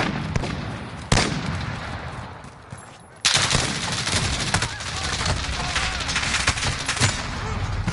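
Gunfire rattles through a Modern Warfare multiplayer match, with dense continuous shooting and a sharp crack early on, a brief lull, then sustained loud bursts.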